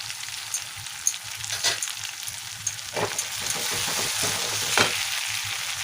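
Turmeric and chili powder sizzle and fry in hot oil for an okra curry, a steady close crackle with a few sharper pops, no talking.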